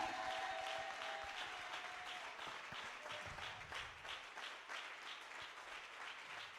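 A church congregation applauds to acclaim Jesus during a worship service, with sustained, dense clapping from a crowd and a soft held tone faintly beneath it.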